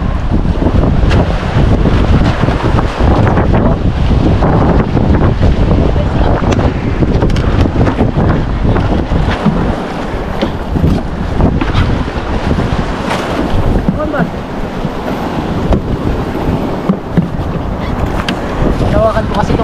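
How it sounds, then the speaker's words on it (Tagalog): A small wooden boat moves across open sea, with a constant roar of wind buffeting the microphone, splashing waves and hull noise loud and close throughout, while people talk intermittently beneath. "nakakapanibago pag sumakay sa maliit na bangka"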